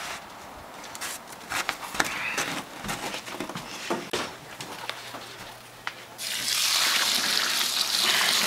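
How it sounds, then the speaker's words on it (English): Hot water at about 180 degrees Fahrenheit poured into a mash tun for all-grain beer brewing, a soft trickle with occasional knocks that swells into a steadier rushing pour. "So we're pouring our water in here."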